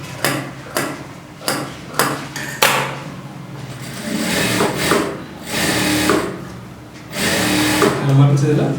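A sewing machine runs in short bursts while stitching a blouse, starting with a few rapid clicks and then whirring in longer runs, with a person talking over it.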